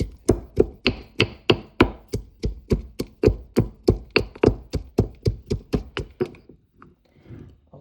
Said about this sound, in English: I'm gonna crush the ginger, garlic, and the pimento seed